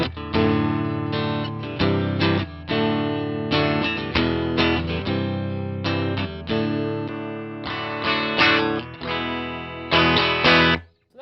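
A 1980s Peavey electric guitar rings out through heavy distortion and effects, loud strummed chords and sustained riffs played alone with no talking.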